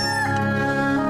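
A cockerel crows in one loud, sustained call with harmonic, slightly wavering tones, close and alone.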